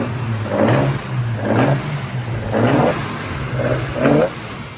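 A 265 CI inline six-cylinder muscle car engine with three 45mm Weber carburetors revs up and down several times in a row, a throaty mid-pitched growl swelling and easing in repeated bursts.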